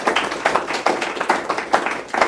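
Applause from an audience at a sobriety meeting after a speaker's share, a close burst of steady, slightly rhythmic hand clapping from a small group with no talking over it.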